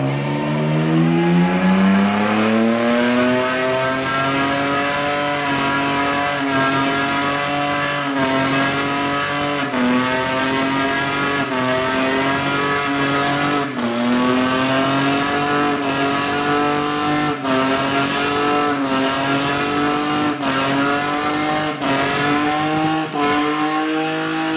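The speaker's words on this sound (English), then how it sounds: "did a good old burnout" A Nissan Skyline car holds a sustained burnout, its engine droning loud and close at high revs while the pitch climbs and wavers, with tire noise running underneath throughout.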